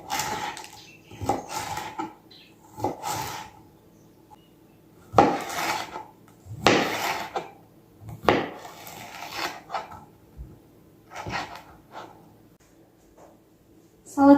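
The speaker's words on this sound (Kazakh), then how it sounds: "Енді тамаққа арнап тураймын." A knife chops vegetables on a board, producing irregular clusters of close, crisp knocks and scrapes separated by short pauses.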